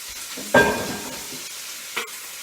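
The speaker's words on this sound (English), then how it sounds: "I'll push that down nice and tight. I want to get a good sear across that." Chicken sears in a hot pot as it is pressed down, a close, brief sizzle that flares sharply and fades, followed by a second smaller flare, with no talking.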